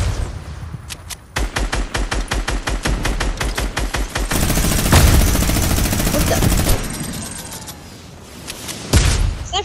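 Rapid automatic gunfire in a shooter game, loud close bursts of evenly spaced shots followed by a dense sustained volley and a few heavy single blasts.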